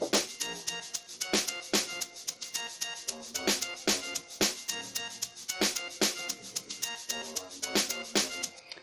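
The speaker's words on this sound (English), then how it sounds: "So this is my first log drum" An amapiano log drum bass synth programmed in FL Studio Mobile plays inside a busy beat with crisp percussion hits on a steady groove. The mix is dense and runs continuously, with no voices.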